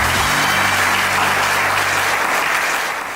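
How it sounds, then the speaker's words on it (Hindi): Audience clapping at a comedy skit, a steady dense wash of applause throughout, loud and close, with no voices over it. "चलो अब आप लोग ताली मारो।"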